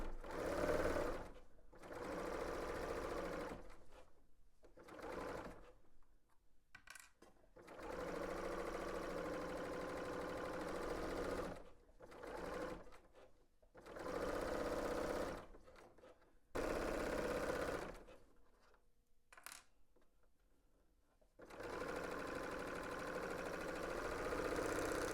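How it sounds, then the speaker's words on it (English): A 4-thread overlock serger stitching the side and shoulder seams of a tank dress at a 5/8-inch seam allowance, whirring in steady fast bursts broken by short pauses, close and clear with no talking. "I am using a 4-thread overlock stitch."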